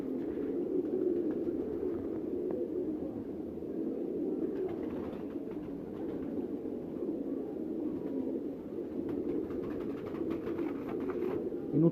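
Pigeons with immature feathers in a loft, a steady low murmur of soft cooing that overlaps continuously, close and fairly quiet, with faint rustling and clicks.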